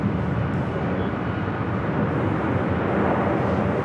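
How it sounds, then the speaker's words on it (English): A 33-year-old Delta Air Lines Boeing 757 at Los Angeles International Airport produces a steady, broad jet roar that stays loud and even throughout, with no voices. "Delta Airlines flight 395, a 33-year-old 757 at 200."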